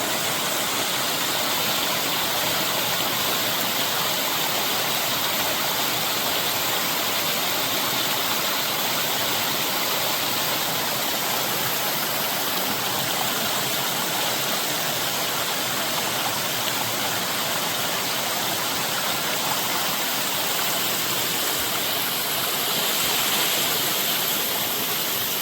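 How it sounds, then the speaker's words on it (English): A waterfall on the Appalachian Trail roars as a steady, dense hiss of rushing water, loud and unbroken throughout with no other sounds over it. "Love those waterfalls."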